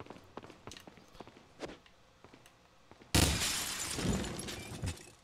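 Glass shatters with a sudden loud crash in Resident Evil 4, following quiet footsteps and small thuds, then a dense spray of broken fragments that rings on for about two seconds.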